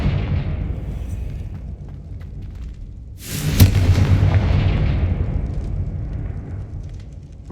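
A blasting spell explodes in a fantasy video game, a single loud burst with a sharp onset followed by a rumbling decay over several seconds against steady low background noise.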